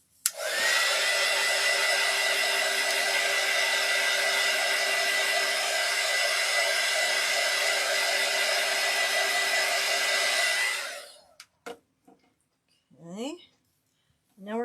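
A hair dryer blows steadily and loudly for about ten seconds, drying alcohol ink on a ceramic tile, then switches off, leaving a few small clicks and handling noises.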